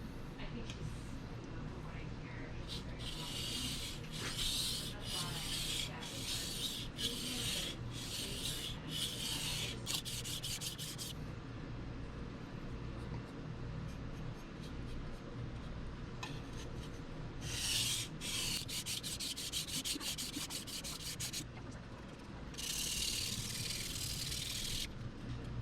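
A pipeline steel nakiri knife is stroked over a sharpening stone in bursts of quick, rhythmic rasping scrapes, faint and close against a steady background hum.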